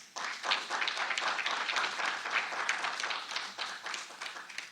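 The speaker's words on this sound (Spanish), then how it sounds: "creo que todos nos merecemos nuevamente unas fuertes palmas" Audience at a political communication congress breaks into applause, a steady wash of many hands clapping at moderate loudness, holding for several seconds before thinning out.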